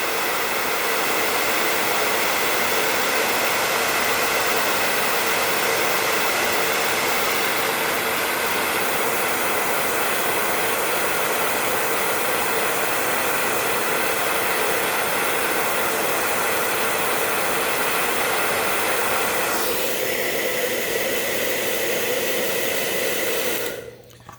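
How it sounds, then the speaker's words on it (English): A hair dryer blows a steady, loud, close whoosh for about twenty seconds over modeling paste on a craft piece, then cuts off abruptly at the end. "So I'm going to blow dry this."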